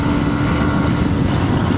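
A Hero Xpulse 200 motorcycle engine strains at around 100 km/h, a dense, loud, continuous drone mixed with heavy wind rush and no clear pauses.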